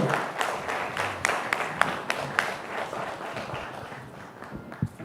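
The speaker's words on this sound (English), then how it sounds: "they'll give you another big round of applause" Scattered applause from a conference audience at a tech summit: sparse, uneven claps of moderate loudness that thin out over a few seconds, with no talking over them.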